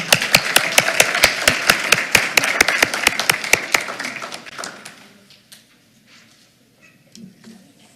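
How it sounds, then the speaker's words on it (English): A small group at a school board meeting gives a student-of-the-month honoree a round of applause: close, sharp, evenly paced claps for about four seconds that then thin out and fade to near silence. "let's give Kevin one other round of applause"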